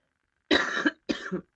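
A person coughs twice in quick succession, close and fairly loud, the second cough a little shorter, with near silence before and between them.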